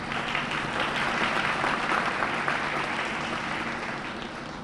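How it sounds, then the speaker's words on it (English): An audience at a community relations awards ceremony for the 3rd District police gives the dais a round of applause. The clapping is dense and sustained, holds an even level throughout and tapers slightly at the end. "Let's give the dais a round of applause."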